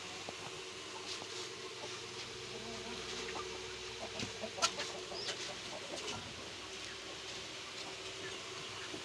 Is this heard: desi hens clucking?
yes